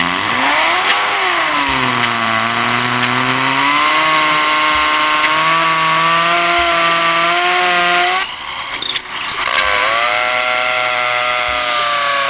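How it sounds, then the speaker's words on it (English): A loud, steady power drill whines continuously close by as it bores a hole into concrete, its pitch wavering as it bears down, with a brief harsher burst partway through. "drill a new hole in the concrete"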